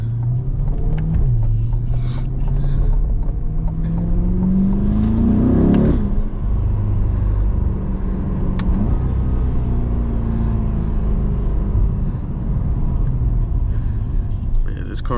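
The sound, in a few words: car accelerating from green light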